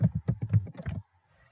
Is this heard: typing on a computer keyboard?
yes